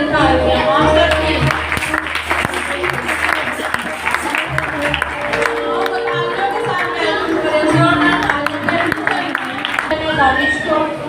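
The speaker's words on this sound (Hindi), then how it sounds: "जोरदार तालियां आप सबके" Loud applause from an audience at a school event honouring children, dense sustained clapping filling the whole stretch with voices and cheering mixed in.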